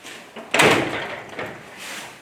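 A garage door is shifted on its track rollers during a roller repair, giving a short scraping, rumbling metal shove that swells quickly, then trails off with a smaller second bump, close and fairly loud.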